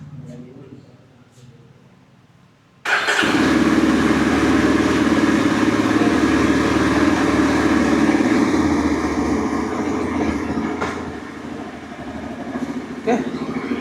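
A 2025 Yezdi Adventure motorcycle in Tornado Black fires up abruptly after quiet, then settles into a loud, steady, close idle that holds for about ten seconds.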